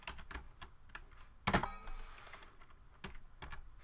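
Quiet typing on a computer keyboard, irregular soft key clicks with one brief flurry of faster keystrokes near the middle, close and alone.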